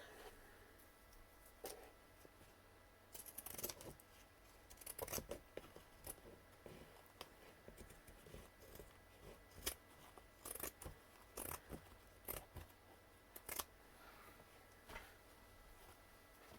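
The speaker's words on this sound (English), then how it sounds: "So I need my pinking shears again." Pinking shears snipping through fabric during slow-stitch sewing, a quiet series of short irregular crunching cuts with pauses between them, close and faint.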